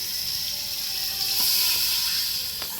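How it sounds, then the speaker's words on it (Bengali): Water poured into a hot pan of spiced fish curry with turmeric and salt sets off a loud, close, steady hissing sizzle that swells and then holds for a few seconds, with faint clicks and no talking. "এবার দিয়ে দিব জল"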